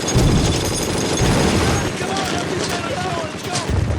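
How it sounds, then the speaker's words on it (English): Gunfire and explosions from a night battle scene in the Band of Brothers series, with dense crackling bursts and booming blasts filling the whole stretch at high volume. "you can't see much except for the bullets whizzing by and the explosions"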